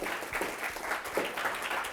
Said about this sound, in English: Can we give her a round of applause here?